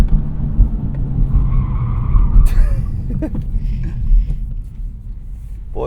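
A 2023 Acura Integra with a 6-speed manual pushes its front tires hard on a Detroit-area on-ramp, loud engine rumble under a brief rising tire squeal, with a voice in the cabin.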